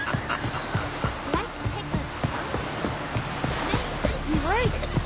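Hoofbeats of Roach, the horse in The Witcher 3 on PS5, galloping in a steady clip-clop rhythm with a whinny near the end, under continuous talk.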